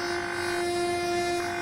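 A train horn blares in a steady, loud, sustained tone over the rumble of a passing train at a crossing, with no talking.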